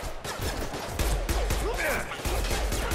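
Rapid bursts of gunfire from the video game Mass Effect 2 crack out several times in quick succession, loud and close, amid game background sound.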